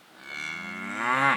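Cattle on a ranch giving one long, loud moo that swells toward the end, close by with no talk over it.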